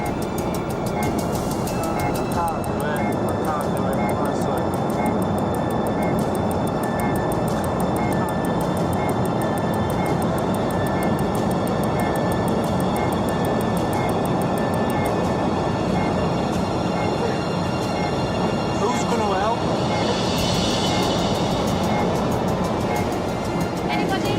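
Inside an airplane cabin in flight, a steady, dense engine and air roar fills the space without letup, with faint voices in the background.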